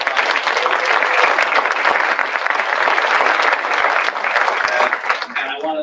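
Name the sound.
audience applause for a panel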